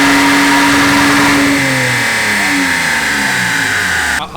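A car engine on a dyno revs hard and loud, pitch climbing steadily through the gears over a few seconds before cutting off abruptly at the end, with no talk.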